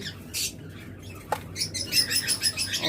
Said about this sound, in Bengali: একদম ব্রিডিং পেয়ার দুইটা পাখি কিন্তু টেম